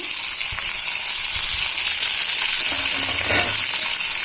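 Green chillies, onion and tomato fry in oil in a pan, a loud, dense, continuous sizzle close up with occasional low thuds and scrapes of stirring.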